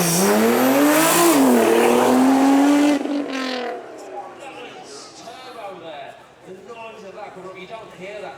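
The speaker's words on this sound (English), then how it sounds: "Next then is our GTR. Doing well there, hard on the brakes." Nissan GT-R with many upgrades braking hard and driving past at a supercar weekend event, loud engine note falling in pitch as it passes close by, then fading under a commentator's voice.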